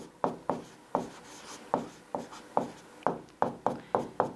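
Someone hand-writes a series of positive integers in a maths lesson, the pen making about a dozen short, crisp scratching strokes at an uneven rhythm, close and fairly quiet with no talk.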